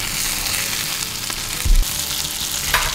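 Fish sizzling in a pan of butter while being basted with a spoon, a loud, steady crackling fry broken by a couple of low thumps from the pan.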